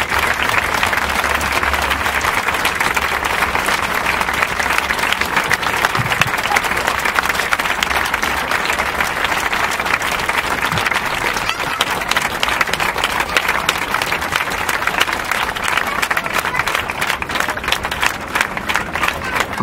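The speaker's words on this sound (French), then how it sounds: "C'est les principales actrices, on les applaudit." Dense, sustained applause from an audience at a climate march gathering, honoring three women; steady loud clapping fills the whole stretch without pause.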